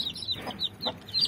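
A hen clucks while being lifted off her brood of chicks, giving a few short, close clucks in an uneven rhythm with no talking.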